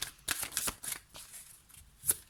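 Tarot cards being shuffled and drawn by hand: a few quick, soft riffling bursts and light card slaps, close and quiet.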